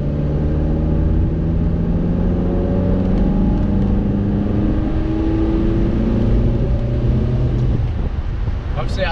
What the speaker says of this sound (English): Hopefully you guys can hear the engine